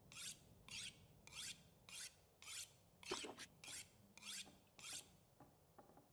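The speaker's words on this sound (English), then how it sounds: "Sharpening it makes it work better" A blade being sharpened in a video game set in a dark whiteout survival setting, heard as a series of about ten rhythmic rasping strokes, each a short scraping sweep, fairly close and with no talk.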